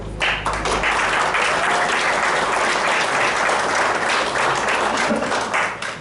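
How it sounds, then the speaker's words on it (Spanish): Loud, sustained applause from a congregation at a Spiritist gathering in Guatemala, a thick continuous roar of clapping that starts abruptly and stays at full strength for about six seconds. "le voy a pedir de favor que recibamos con fuertes aplausos"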